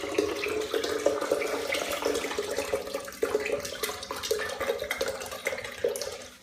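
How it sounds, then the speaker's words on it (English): Young coconut water pours in a continuous splashing, gurgling stream into a blender, close and steady with slight fluctuations, no voices. "Then just pour this inside the blender."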